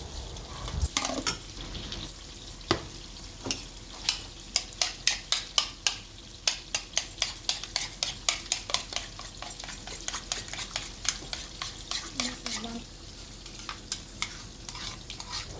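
Minced meat keema cooking with two large chopped tomatoes in a pan, with sizzling under a long run of rhythmic scraping and stirring strokes from a utensil against the pan, loud and close.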